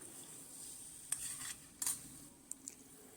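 Chicken tossed in a soy chili garlic mixture is stirred in a pan over a medium flame; a few quiet utensil scrapes and clinks stand out over a faint, low sizzle.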